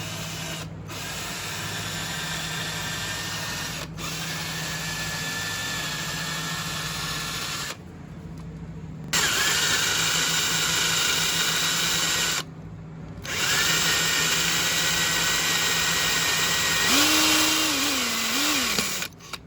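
A power drill bores pilot holes for a jersey bracket in long steady whining runs, loud and close, with short pauses between passes and a pitch that shifts as the bit works.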